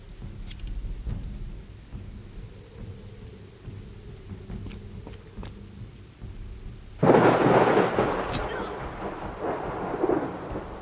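Thunderstorm in the Viking-era game Expeditions: Viking: steady rain hisses throughout, and a loud, close crack of thunder breaks in about two-thirds through and rumbles on to the end.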